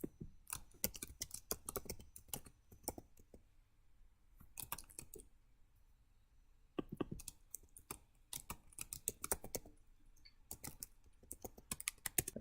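Quiet, close clicking of a computer keyboard in irregular bursts of quick keystrokes, separated by brief pauses, with no voices.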